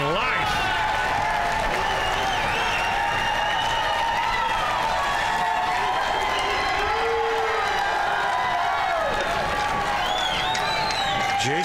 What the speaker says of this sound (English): And the American crowd shows some life.